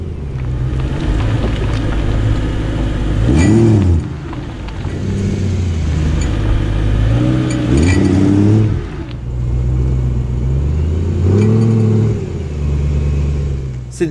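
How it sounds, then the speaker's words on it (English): Inside a moving BMW E9x M3 with a prop-shaft CV joint fault, a drivetrain hum and engine drone fill the cabin, broken by a few louder ringing, rising bursts as the car accelerates. "we are going to attempt to fix the cowbell sound which comes from the drivetrain on my M3"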